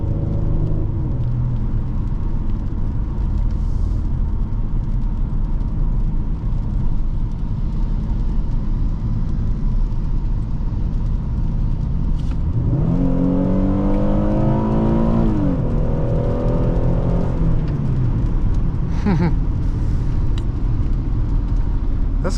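A 2014 Ford Taurus Police Interceptor with a 3.7L engine heard from inside the cabin, a loud steady drone that climbs sharply in pitch as it accelerates hard midway, then settles back into a constant rumble.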